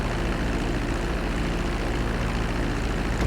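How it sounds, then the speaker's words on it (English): A Grand Theft Auto V airplane on approach to the runway, its engine a loud, steady, unbroken drone throughout. "Start reducing the plane's altitude gradually so you're just above the runway as you approach"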